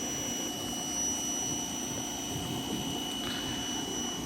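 A 1971 Datsun 521 pickup engine idling under its own power, a steady low rumble with a faint whine on top, even and unbroken throughout, no voices.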